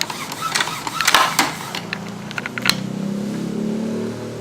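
An inkjet printer head is moved by hand to generate electricity. It makes a burst of mechanical clicks and clatter, then a rising whirring hum, fairly close.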